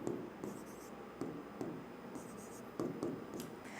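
Chalk or marker writing on a classroom board, with short scratchy strokes and taps in an irregular rhythm, quiet and close during a biology lesson.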